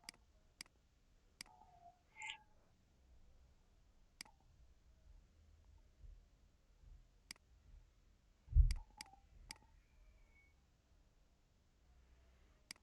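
Sharp, quiet mouse clicks on a computer while drawing a submarine illustration, scattered singly and in quick pairs over a near-silent background.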